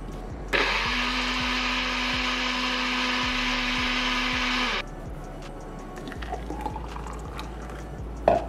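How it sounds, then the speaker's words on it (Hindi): A blender whirs loud and steady for about four seconds, blending a smoothie of oats, half a lemon's juice and water, then cuts off to quieter kitchen sounds. "Okay, let's blend this."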